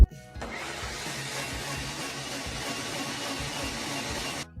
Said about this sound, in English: Let's blend this mixture first, which is super quick to do in the blender.